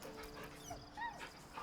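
Scratch, a dog in the video game Baldur's Gate 3, gives soft whimpering yips and short barks close by over a busy background of game ambience.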